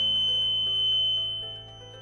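An Arduino Uno home-security sound detector's buzzer sounding, triggered by an ultrasonic sensor, as a steady electronic tone held for about two seconds, close and clear, then fading slightly toward the end.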